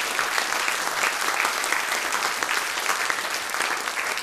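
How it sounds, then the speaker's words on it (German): A studio audience at a Swiss folk music television show applauds two accordion musicians, a dense, sustained round of clapping that stays loud and even throughout, with no speech over it. "Und darum riesigen Applaus für die beiden Männer"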